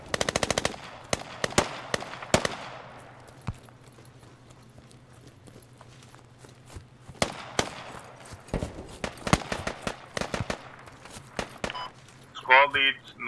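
Machine gun fire in the military video game Squad: sharp bursts of rapid shots at the start and again later, separated by quieter stretches with scattered single shots and a low background hum.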